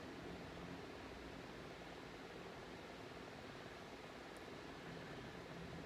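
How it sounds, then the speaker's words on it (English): A jet aircraft flies over outdoors at a march in Washington, a steady broadband roar that stays constant throughout and sits fairly faint in the background, with no voices over it. "there's a jet flyover right now."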